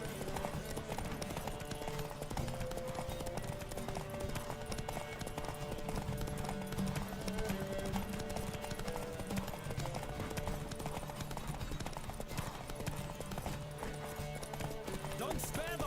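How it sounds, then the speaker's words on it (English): Horse galloping in the video game The Witcher 3: Wild Hunt, rapid rhythmic hoofbeats running steadily throughout under continuous game music and ambient sound, with spoken voices at times. "Don't spare the horse."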